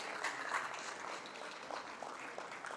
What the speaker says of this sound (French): Merci d'applaudir pour Teranga Équitable